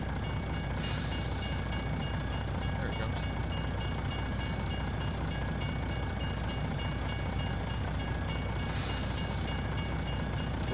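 A long train rolls past in the farming video game Farming Simulator 19, a steady, continuous rumble and rattle of wagons with faint hiss, holding even loudness throughout with no talking.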